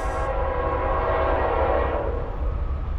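A CSX or Norfolk Southern freight train sounds a loud, sustained horn blast close by, over a steady low rumble of rolling railcars, with no voices.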